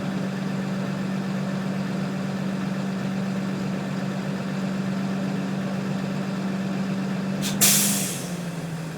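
A truck engine idles with a steady low hum, then the air brake governor cuts out in a sharp loud burst of air that hisses out near the end and tapers off.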